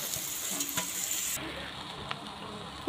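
Mixed vegetables with green peas and turmeric fry in a wok, giving a close, steady sizzle with a few soft stirring clicks. The bright hiss drops away partway through as the frying quiets.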